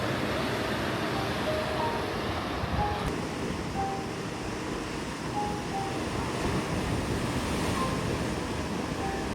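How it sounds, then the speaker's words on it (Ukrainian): Steady broadband roar of big surf and wind on a beach in Crete, Greece, continuous and loud throughout with no distinct individual breaks, like heavy waves churning nearby. "Знов здійнявся вітер і подивіться, які тепер великі хвилі."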